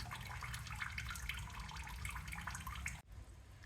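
Distilled water gushes steadily from a Rolls Royce Silver Shadow radiator drain during a flush, a close, continuous splashing pour that briefly cuts out near the end before resuming.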